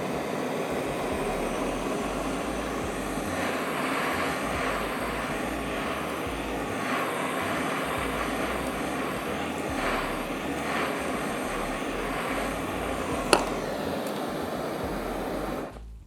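A handheld gas torch flame roars steadily while caramelizing sugar on top of a steel-cut oat brûlée. A loud, continuous hissing rush holds for about sixteen seconds with one sharp click near the end before it cuts off.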